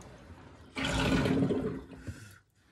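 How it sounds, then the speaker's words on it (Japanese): Beef tongue rinsed under running tap water in a kitchen, a loud steady gush of water that starts abruptly and runs for over a second before tapering off, with no talking. "血管ね。 もう一回洗います。"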